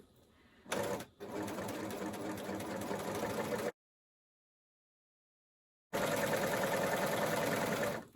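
Close, steady motor hum of a sewing machine stitching around a marker guideline on a gift project, running in two long bursts separated by a few seconds of silence.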